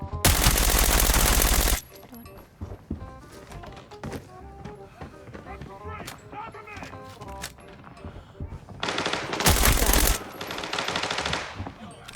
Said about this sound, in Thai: คนมาดักยิงผมตรงทางออกลิฟต์นะครับตอนนี้